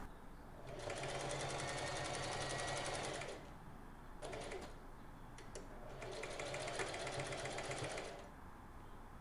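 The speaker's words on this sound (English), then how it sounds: "Attach the ruffle to the shirt by sewing in between the two rows of gathering threads." A sewing machine stitches a ruffle onto a shirt between rows of gathering threads, running in two long steady bursts of fast rhythmic whirring with a brief stop-start between them, close and alone.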